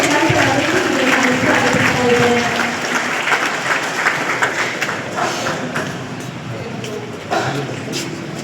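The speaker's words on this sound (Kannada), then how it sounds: "ನಿಮಗೆ ಒಂದು ಜೋರಾದ ಚಪ್ಪಾಳೆ" Applause from the audience at a Ganesha festival peace meeting in Harihara Nagar, a steady, dense clapping that runs the whole time and fades slightly toward the end, with some thumps mixed in.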